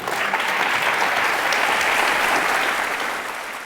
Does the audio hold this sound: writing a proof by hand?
no